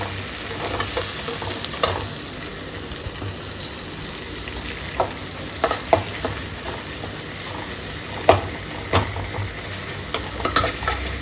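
A single tomato sautéing in a pan for a green turkey-berry kuzhambu, a continuous low sizzle with sporadic sharp spoon scrapes and taps against the pan.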